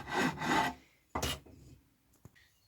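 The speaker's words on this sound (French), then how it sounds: "Et ça lime, et ça lime, et ça lime, et ça arrondit jusqu'à obtenir le bon rayon." A hand file works a wooden piece for a wood and epoxy resin plate, making two long rasping strokes, then a shorter one and a faint scrape, heard close and with no voices.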